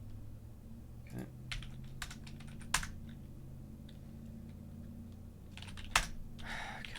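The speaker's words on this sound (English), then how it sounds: "I cannot type today." Computer keyboard typing while editing C++ code, with irregular bursts of close key clicks and a couple of louder keystrokes over a quiet hum.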